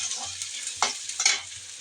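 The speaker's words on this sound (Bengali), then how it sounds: "পেস্টটা ভেজে নিচ্ছি" Spice paste fries in a pan for a potato dish, a soft sizzle punctuated by a few sharp spatula scrapes and stirring strokes close by.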